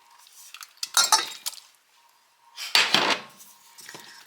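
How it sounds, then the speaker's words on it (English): Hot tortellini tumbles into a metal pot of sauce with clattering, scraping bursts, then a pause before another clinking round of whisking and stirring against the pot. "I'm going to take my tortellini, which is still hot by the way, and I'm going to dump that in this pot."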